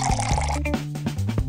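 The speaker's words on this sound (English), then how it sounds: "Pour milk on chocolate cookies." Milk poured over chocolate cookies in a cartoon kitchen, heard as a short run of wet splashes and drips with a few soft squishy plops, close, over a bright musical backing.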